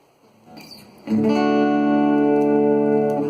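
An acoustic guitar chord is strummed through an amplifier and rings out, sustaining evenly with a touch of reverb.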